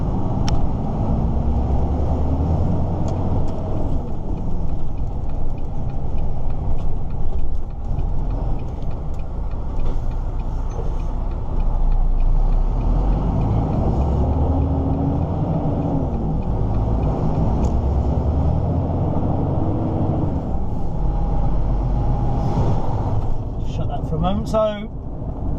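An old motor vehicle engine drives with a steady low rumble and shifting whine at dock gates, mechanical rattles throughout, with a speaking voice over it.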